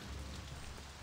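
Rain pours in the game Saints Row 2 as a dense, continuous hiss of drops striking surfaces, loud and steady with no talk.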